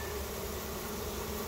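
A dense, steady buzz of many honey bees swarming close by on a hive, continuous and droning without any break.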